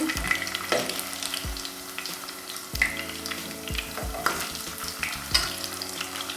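Cypriot meatballs (Kıbrıs köftesi) sizzling and frying in a pan, with a constant crackle and occasional clinks of a utensil turning them.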